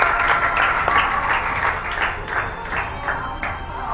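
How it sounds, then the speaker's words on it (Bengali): An audience at an award ceremony on a stage breaks into applause, a dense, fairly loud wash of many hands clapping together that holds steady for several seconds. "ঋত্বিকা রয়, হাততালি একবার ঋত্বিকার জন্য।"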